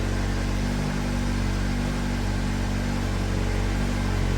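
A Dodge Hornet GT fitted with an MPX intake tube warms up, a steady, even engine drone with broadband whoosh and no revving, holding constant throughout.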